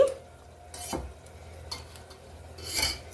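Ghee spoon-added to a hot kadhai while making a paneer veggie roll, giving short soft sizzles and a stirring scrape near the start and again near the end, close by, with quiet gaps between.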